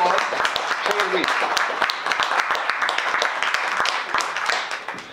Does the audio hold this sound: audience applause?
yes